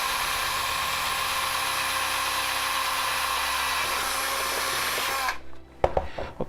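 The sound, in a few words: drilling holes with a drill bit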